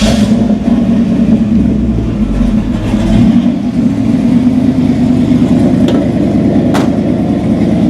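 A 1963 Buick Riviera with a built 6-liter LS V8 fires up and idles with a deep, loud rumble, the exhaust swelling with a few blips of the throttle and no talking over it.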